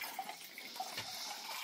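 Water is scooped with a small red jug from a large white clay jar at a remote countryside home in Brizon, making a faint, soft splashing and trickling.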